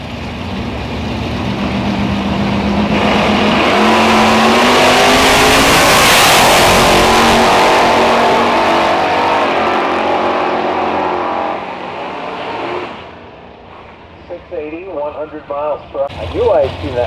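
Nostalgia drag racing hot rods at an Ontario Nostalgia Drag Racers event in St Thomas roar down the strip. A loud, sustained engine blast swells and then fades into the distance, followed by quieter crowd and announcer sounds.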